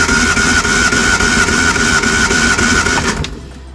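Reliant SuperVan engine cranked over by the starter with no spark plugs or HT leads fitted, during a compression test on number 4 cylinder: a loud, even, rhythmic whirring churn that runs steadily for about three seconds, then cuts off abruptly.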